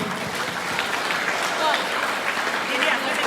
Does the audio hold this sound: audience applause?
yes